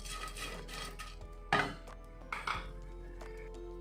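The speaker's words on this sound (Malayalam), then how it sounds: "ഞാനിതൊരു പാത്രത്തിലേക്ക് മാറ്റിയിട്ടുണ്ട്." Roasted dried shrimp mixture for Kerala-style chammanthi podi is moved into another bowl, giving two sharp clinks and scrapes of utensil against pan over a quiet steady background hum.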